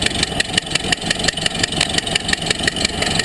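A 1930 Ford Model A engine, restarted after 37 years in storage, runs with a steady, loud, rhythmic chugging and regular firing pulses close by. No one speaks.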